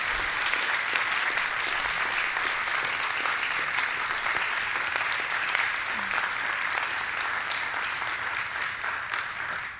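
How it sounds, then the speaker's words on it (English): Sustained audience applause after a lecture on aquatic foods for nourishing nations, a dense, steady wash of many hands clapping at full strength throughout, easing slightly at the very end. "So a round of applause again for Dr."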